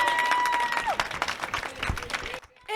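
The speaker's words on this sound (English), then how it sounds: "Can I have a round of applause for the kids?" Applause for school children at a BGS National Public School charity event, a dense wash of clapping with some cheering that swells loudly, dips briefly near the end, then resumes.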